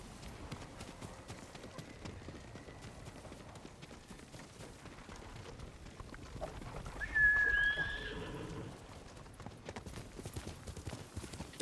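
Kage the horse galloping in the game Ghost of Tsushima, a rapid continuous run of hoofbeats at moderate level, with a neigh breaking in near the middle and a few faint game sounds around it.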